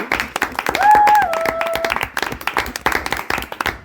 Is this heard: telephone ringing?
no